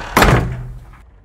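A heavy metal door in the horror game Nun Massacre opens with a single loud clanging thunk, followed by a low metallic ring and creak that fades out over about a second.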